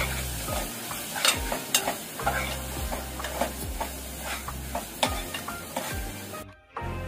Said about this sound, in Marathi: आता अर्धा चमचा हळद टाकूया। ते परतून घेऊया चांगलं।